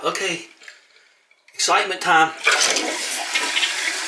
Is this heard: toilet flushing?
yes